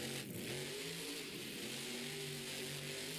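The Avenger monster truck revs its engine at a Monster Jam stadium show in San Diego, with loud, droning engine tones that rise and fall over steady crowd and arena noise.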